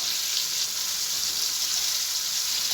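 A tomato omelette fries in a pan with a steady, even sizzling hiss throughout, close and moderately loud, with no talk over it.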